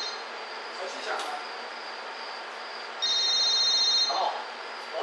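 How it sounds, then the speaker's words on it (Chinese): Mobile phone ringing during a university lecture, a bright electronic ringtone that sounds for about a second over quiet room noise. "手机响"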